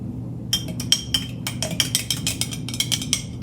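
Spoon stirring warm water and yeast in a glass, giving a quick run of bright, close clinks against the glass, irregular and fairly loud over a low background hum, with no talking.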